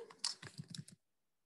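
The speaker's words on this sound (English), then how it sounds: "I'm going to type this up here." Quick burst of typing on a computer keyboard in a classroom setting, a short close cluster of soft key clicks lasting under a second, then silence.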